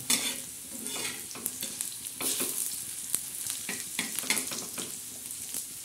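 Onion frying until dark brown for a spicy brinjal dish with dried Bombay duck, with a steady crackling sizzle and repeated sharp scrapes of stirring, close and alone.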